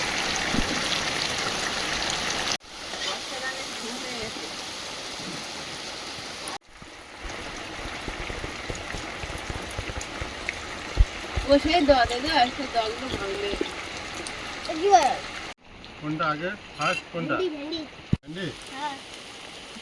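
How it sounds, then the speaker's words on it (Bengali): Rain falls steadily outdoors beside a home near farm fields, a soft, even patter and hiss heard behind people talking close by, with brief breaks and rustles in between. "তোমাদের পিছনে কি সুন্দর বৃষ্টি পড়ছে দেখো"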